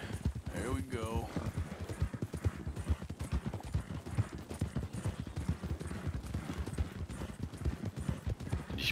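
Horse hooves clip-clop in a quick, steady trot close by in the video game Red Dead Redemption 2, with a brief whinny early on and a voice talking over the rhythm.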